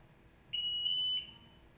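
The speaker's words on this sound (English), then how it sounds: "The ALTAIR 5X is now performing a self-test and acoustic and vibration alarms as well as LED signals will be tested." An ALTAIR 5X gas detector running its acoustic alarm self-test gives one steady high-pitched beep of under a second, clear and close against near silence.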